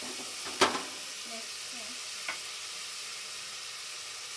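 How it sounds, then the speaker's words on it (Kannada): Food fries in a pan for beetroot pulao, a soft continuous sizzle with one sharp clink of a utensil early on and a faint scrape later, otherwise quiet and even. "ಫ್ರೈ ಆಗ್ತಾ ಇದೆ"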